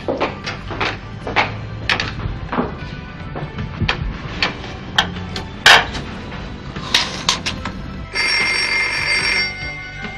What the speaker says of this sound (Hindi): बेटा देखना किसका फोन है।